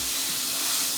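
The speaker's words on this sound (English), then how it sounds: "Can you hear that steak sear?" A steak searing in a hot oiled skillet, a loud, steady hiss of sizzling fat filling a short moment right after the meat hits the pan, close up and with no talking.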